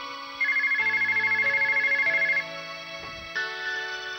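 A telephone ringtone plays as a bright electronic melody with a pulsing warble, stops briefly, then resumes with another tone, loud and close, with no voices.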